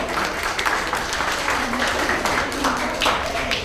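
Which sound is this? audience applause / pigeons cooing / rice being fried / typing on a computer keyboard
audience applause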